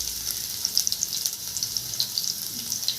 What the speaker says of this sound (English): Saute the garlic for a few seconds.